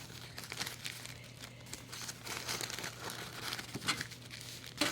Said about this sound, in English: I'm going to draw a big circle, and then I'm going to fold it up.